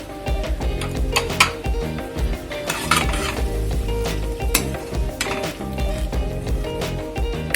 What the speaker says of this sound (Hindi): दूध को तब तक गाढ़ा करेंगे जब तक ये उबलकर आधा न रह जाए।